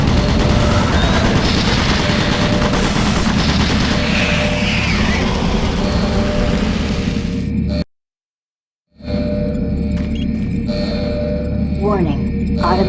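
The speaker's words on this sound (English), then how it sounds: "Warning. Automated turret guns" Automated turret guns in Doom 3 BFG's Monorail level fire in a sustained loud volley, booming and rattling with whooshing effects, then cut to silence before an electronic hum and rising tones resume.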